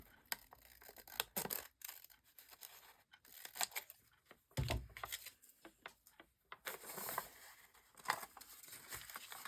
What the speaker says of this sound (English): Oops, grabbed the wrong scissors, but these will work.